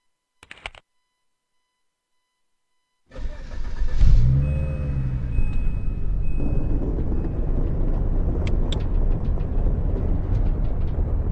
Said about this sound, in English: Start your vehicle and take a right out of this parking lot.